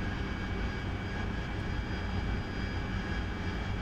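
Harrier AV-8B jet engine in the DCS flight simulator game during field operations near Nellis, a steady loud roaring whine with a constant engine drone and faint tonal hum, uninterrupted and close.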